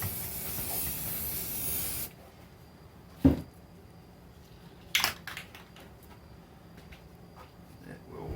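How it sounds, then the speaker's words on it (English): An aerosol spray paint can hisses in a long spray onto a bathroom sink, followed after a pause by a few short sharp bursts, close and loud. "just spray it on there and it'll work out"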